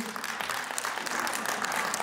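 An audience applauds at a children's concert, a brief burst of dense, steady clapping heard from a moderate distance.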